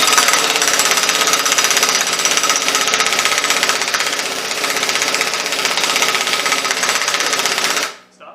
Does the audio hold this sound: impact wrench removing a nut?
yes